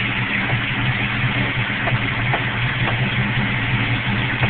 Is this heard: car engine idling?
yes